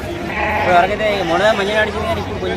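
Sheep bleat loudly and repeatedly close by at a livestock market in Gangadhara, wavering cries overlapping with a busy crowd of animals and some voices.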